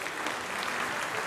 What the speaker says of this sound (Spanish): ¡Un fuerte aplauso!